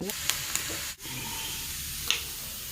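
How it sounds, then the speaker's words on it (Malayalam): Continuous sizzling and hissing of cashews frying in a pan, with a few light clinks and a brief dip midway; no talking. "നമുക്കിതിന് കുറച്ച് അണ്ടിപ്പരിപ്പ് മുന്തിരിങ്ങ തേങ്ങക്കൊത്തൊക്കെ വറുത്തിടാം"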